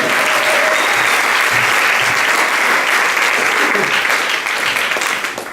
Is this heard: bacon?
no